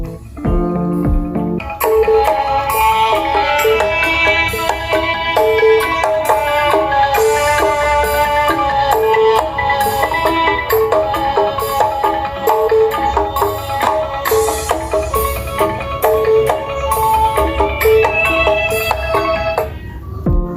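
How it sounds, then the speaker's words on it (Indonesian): Hi-res music sample playing from a Sony Ericsson C905 phone, a full busy track with bright melodic layers and steady beat running continuously and fairly loud. "itu tadi adalah suara sampel dari Sony Ericsson C905 Hi-Res Audio"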